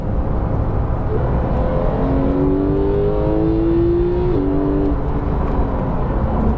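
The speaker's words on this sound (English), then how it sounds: "That engine sounds so good as well. GT3 raw, that naturally aspirated 4-litre engine." A Porsche 911 991.2 GT3's naturally aspirated 4-litre engine revs hard, its loud rising whine climbing steadily through the gears with a brief shift, heard up close from inside the car with no talk.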